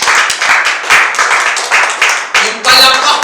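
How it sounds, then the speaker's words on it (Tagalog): A church congregation claps their hands together in praise, a dense, continuous wave of applause rising and falling in bursts throughout, loud and close. "Palakpakan po natin ang Panginoon."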